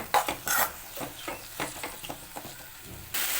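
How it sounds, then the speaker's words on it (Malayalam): Okra and onion are stirred in a pan, with quick scraping strokes and light utensil clinks over a soft sizzle, close and fairly quiet. "ചേർത്തതിന് ശേഷം നന്നായിട്ടൊന്ന് ഇളക്കി കൊടുക്കുക"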